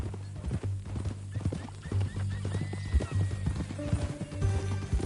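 Horse hooves clip-clop steadily at a walk in Red Dead Redemption 2, close and continuous, with a soft snort or whinny mixed in under the game's ambient sound.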